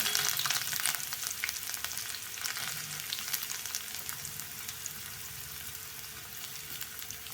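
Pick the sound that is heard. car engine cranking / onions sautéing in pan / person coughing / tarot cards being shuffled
onions sautéing in pan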